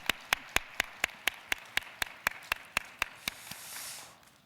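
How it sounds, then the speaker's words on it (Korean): A church congregation claps in a slow, steady unison rhythm during a late-night worship service, about fifteen crisp, evenly spaced claps ringing out clearly before fading into a soft room wash. "우리 그동안 수고했다고 우리 한번 박수를 한 번 더 해줄까요?"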